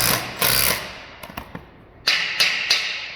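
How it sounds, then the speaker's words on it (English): A drill drives a screw down into model railway track, giving several short, sharp mechanical bursts with brief pauses between them, close and fairly loud with no talking. "and he drills it home."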